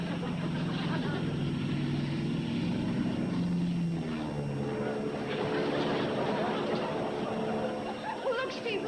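A steady propeller plane drones throughout, a low engine hum with a harmonic whine, and a voice speaks over it.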